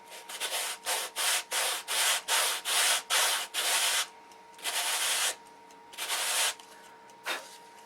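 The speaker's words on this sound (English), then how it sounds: "just take a sanding block and sand away" Repeated rhythmic strokes of a sanding block rubbing across the wood of a control line model aircraft, a steady back-and-forth scratching that pauses briefly, then resumes with a few longer passes.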